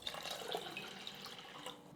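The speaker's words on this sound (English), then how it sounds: "here I'm using 2 cups of sea kelp water and 1 cup of regular water to 3 cups of white rice" Water pours into a pot of white rice, a steady soft splashing stream, close and fairly quiet, with no talk.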